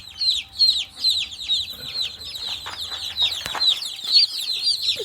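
Chicks in a farm brooder peep constantly, a dense chorus of high, shrill chirps overlapping close by with no pause.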